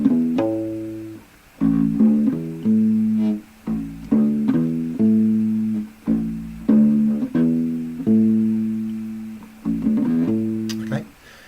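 Bass ukulele playing a simple octave riff, deep plucked notes in a repeating rhythmic pattern with short gaps, clear and close, played alone.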